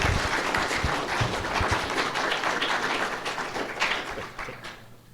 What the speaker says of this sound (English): Let's have a round of applause for Professor Rachel Fulton Brown.